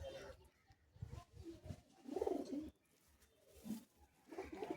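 Andhra pigeons coo in low, soft bursts close by, one after another, with other birds faintly rustling and calling around them.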